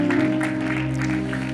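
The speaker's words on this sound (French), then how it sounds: "Tes acclamations sont petites" Church congregation clapping softly and without much vigour after praise for the singers and musicians, a faint, thin patter of applause under low sustained instrumental tones.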